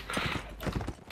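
Horse hooves clip-clop in a Napoleonic line-battle video game, a quick rhythmic series of close, fairly loud hoofbeats over background noise.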